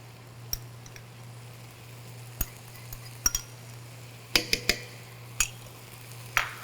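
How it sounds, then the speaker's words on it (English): A spoon stirs garlic into tomato paste in a pot, giving sparse, sharp clinks against the metal over a faint, steady background hum. "I'll stir this in, and then once we can smell that garlic"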